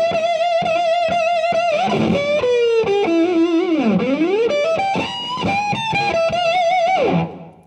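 Electric guitar through a fuzz pedal, with buzzy sustained notes, sliding bends and a dive down then back up, ringing out before stopping.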